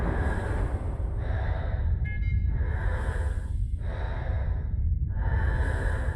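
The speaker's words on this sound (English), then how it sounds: "they really cranked up the Lone Wanderer's breathing" Heavy, steady breathing of the Lone Wanderer inside a space suit in Fallout 3, with slow drawn inhales and exhales over a dense low rumble, close and loud with no talking.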